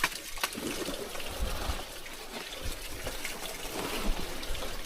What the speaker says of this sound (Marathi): दे बघा किती सुंदर पाणी.